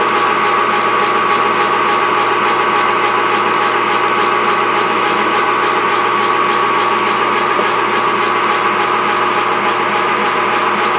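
Metal milling machine running steadily in a workshop: a loud, continuous mechanical drone with a fine rattling texture and steady hum, unchanging throughout with no talk.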